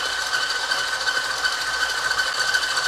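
An electric mixer whisks egg whites for a Swiss meringue, giving a steady, even motor whir that runs without a break and with no voices.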